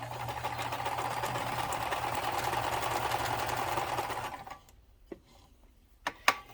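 Kenmore 158.13400 sewing machine running a straight stretch stitch, a steady close mechanical whir for about four seconds before it stops, leaving a few faint clicks and knocks.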